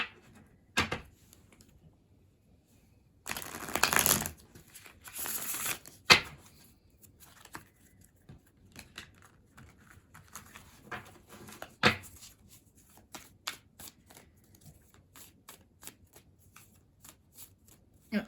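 A deck of Wizard's Tarot cards is shuffled in two brisk riffling bursts, followed by scattered soft clicks and taps of cards being handled in a quiet room.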